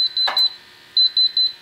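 A portable gas detector alarms during a bump test at a test station, sounding loud high-pitched electronic beeps in quick pulsing groups, with a brief clack or thump between the first bursts.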